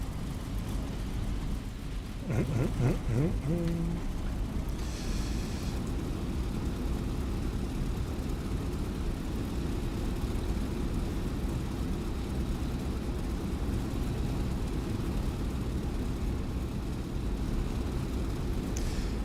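A P-47 fighter's piston engine in DCS World War II rumbles steadily before takeoff, a deep continuous propeller drone with a brief rev early on, close and loud, with no talk.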